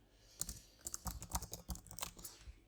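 Fingers tap quickly on a computer keyboard, an irregular run of close, light clicks and clacks with no talk over it.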